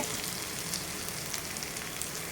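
Grated coconut sautéing in a pan gives a continuous bright crackling sizzle with small scattered pops. It is close and steady, and no one talks over it.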